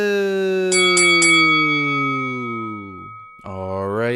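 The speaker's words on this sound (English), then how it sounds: "Ring that bell." A boxing ring bell struck three times in quick succession, ringing out loudly and decaying slowly under a long sustained tone, followed by a brief rising swell; no one speaks.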